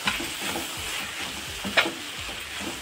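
Tomatoes are stirred into a simmering drumstick curry in a pan, giving a low sizzle with repeated soft scraping strokes and one sharper clink of the utensil partway through; close, no voices.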